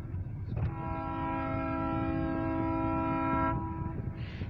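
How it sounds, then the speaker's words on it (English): A freight train's loud, steady horn sounds in one long sustained blast of several layered tones over rumbling engine noise, then cuts off, heard at a grain hopper yard in Titusville. "There's gonna be another whistle coming any moment."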